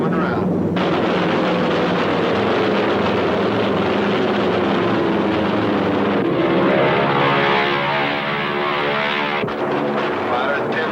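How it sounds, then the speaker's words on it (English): A propeller-driven aircraft roars past, loud and continuous, its engine drone falling in pitch as it goes by, with voices talking over the noise. "Planes 9 o'clock, coming around."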